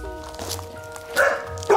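A dog barks from somewhere below on a hillside street near houses, giving a few sharp, moderately loud barks amid outdoor background noise and footsteps.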